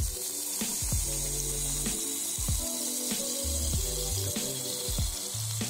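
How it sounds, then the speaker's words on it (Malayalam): Thick coconut milk poured over beef steak cooking in a banana leaf: a steady, close liquid wash and sizzle under a low, rhythmic tonal backing, with no speech. "കട്ടിയുള്ള തേങ്ങാപ്പാൽ അതിലേക്ക് ഒഴിച്ച് കൊടുക്കുക"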